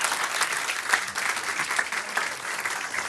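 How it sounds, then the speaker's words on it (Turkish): An audience at a quiz night breaks into steady, moderately loud applause, a dense wash of clapping that continues evenly throughout with no speech over it. "1997'yi de bir alkışlayalım lütfen"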